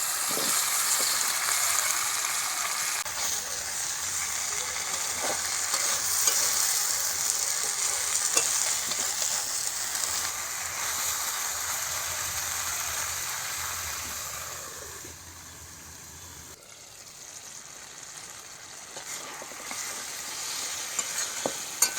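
Bottle gourd and green chillies sautéing in spice masala, a continuous sizzling hiss with stirring scrapes throughout that dips somewhat quieter toward the end; no one speaks.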